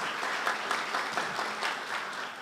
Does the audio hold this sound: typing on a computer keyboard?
no